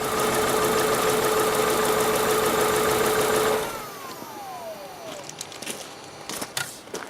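An Opel Zafira engine with a misfire runs loudly with a rough, knocking beat for under four seconds, then cuts out, leaving faint clicks and rattles.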